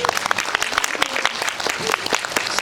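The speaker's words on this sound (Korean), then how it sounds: "경례의 박수 한번 쳐주세요." An audience at a Korean film guest-visit event applauds with dense, sustained clapping that holds steady and loud throughout, with a voice faintly underneath.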